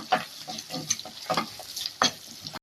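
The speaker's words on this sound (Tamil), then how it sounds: "இப்போ பூண்டும் வெங்காயமும் வதங்கிட்டு இருக்கு." Garlic, onion and curry leaves sautéing in a pan for an emperor fish curry, with scraping stirs and bursts of sizzle repeating every half second or so, close and moderately loud.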